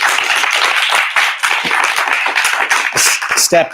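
An audience at a city climate action plan meeting gives a round of applause, clapping loudly and steadily with individual hand claps standing out near the end, with some voices mixed in.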